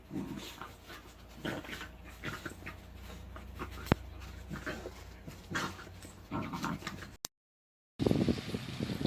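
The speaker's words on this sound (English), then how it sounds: "How to entertain a 12-year-old deaf dog." A 12-year-old deaf dog pants steadily and whimpers at moments, close by, with a short gap of silence near the end before the panting returns.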